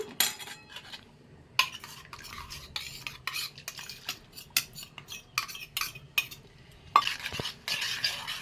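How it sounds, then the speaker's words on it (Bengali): Finely ground mustard paste being stirred into water for prawn bhapa, with repeated close scraping and clinking strokes of a spoon against a bowl in uneven bursts, fairly quiet. "যে ভালো করে জলে গুলিয়ে নিলাম"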